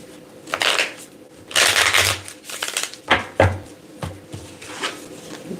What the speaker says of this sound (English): Get a good little shuffle here.